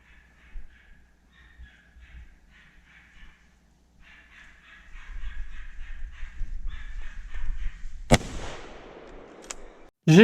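Rifle shot in the woods during a wild boar driven hunt: one sharp, loud blast cuts through a quiet outdoor scene of rustling and distant bird calls, followed a moment later by another abrupt burst as the recording ends.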